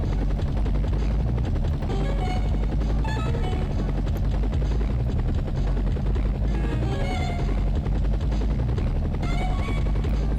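A video game helicopter flies continuously, a dense rotor chop and engine drone droning steadily and loudly, with faint jazzy music tones drifting over it.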